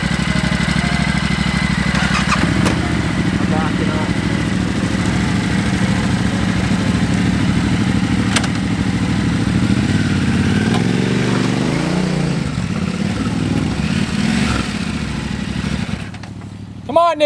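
Motorbikes ride along trails, a steady, loud mid-pitched engine drone that swells and shifts with the throttle, carrying on nearly unbroken with a brief rev near the end.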